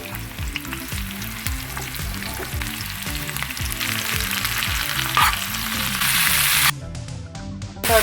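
Crushed garlic and shallots fry loudly in oil with dried fish, a dense steady sizzle broken by repeated scraping stirs of a spoon against the pan.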